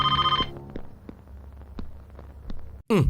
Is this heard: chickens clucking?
no